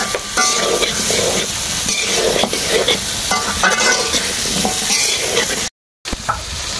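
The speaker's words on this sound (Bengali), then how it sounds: "কুমড়ো দিয়ে ভালো করে মশলাগুলোর সাথে নাড়িয়ে নেব।" Pumpkin pieces with fried prawns and spices stirred in a hot pan, a loud continuous sizzle with repeated scraping strokes of the spoon, close up, broken by a brief cut near the end.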